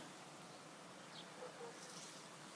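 Faint, steady buzzing hum of many honeybees in the evening, a soft continuous drone with no talking.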